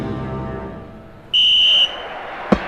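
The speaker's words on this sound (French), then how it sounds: "Et l'arbitre siffle le début de la rencontre." A referee's whistle signals kickoff of a football match in a cartoon: one shrill, steady whistle blast of about half a second over quiet background, followed by a brief sharp click.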